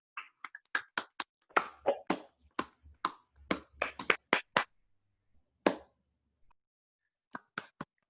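Online meeting attendees clap through unmuted microphones, a scattered burst of sharp claps from several people that trails off into silence, followed by a few late claps.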